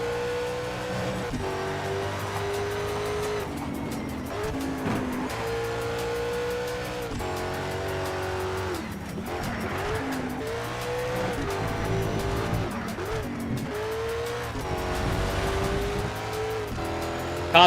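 Race cars roar through Need for Speed Shift 2 on PS3, engines rising and falling with repeated gear changes and bursts of tire squeal and skidding across a long, steady stretch with no talk.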